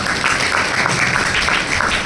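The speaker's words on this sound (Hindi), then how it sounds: "एक बार तालियां तो बजाओ" Audience clapping at a commerce-stream career counselling seminar held at a community temple, a steady dense patter filling the full two seconds at close range.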